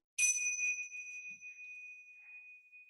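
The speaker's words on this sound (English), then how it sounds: "when I ring the bell, you cannot unpause until the bell stops ringing" A single bell rings once with a bright metallic strike, then its clear tone lingers and slowly fades for over two seconds in a quiet room during a children's home yoga session.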